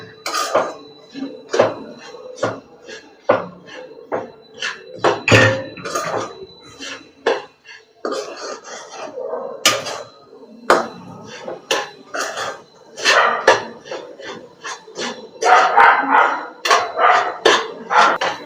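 A spoon stirs rava with warm milk in a metal pan, producing a run of sharp clinks and scrapes in an uneven rhythm, loud and close, with no talking.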